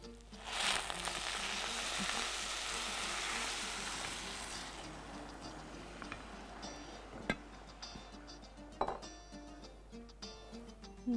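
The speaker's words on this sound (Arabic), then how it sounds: "نبتدي بقى نحط له الميه" Water poured into a hot pot of okra cooking with pomegranate molasses makes a loud burst of sizzling frying that gradually settles into quieter bubbling, broken by a few sharp clinks of a utensil against the pot.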